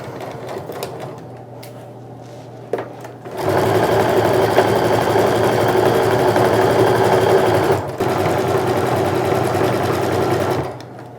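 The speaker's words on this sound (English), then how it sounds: "I'm still reinforcing those stitches at the top of an end of those seams" A sewing machine reinforces stitches at the top and end of the seams on a sling bag, a soft hum giving way to a long, loud, steady burst of fast stitching that briefly dips and resumes.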